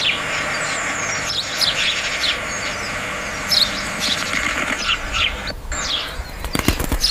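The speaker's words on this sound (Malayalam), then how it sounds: "അതായത് കിളികളുടെ സൗണ്ട്" Birds chirp in bright, quick bursts over a steady hiss, with wing flutters and a few sharp clicks near the end; the scene is AI-generated and no one speaks.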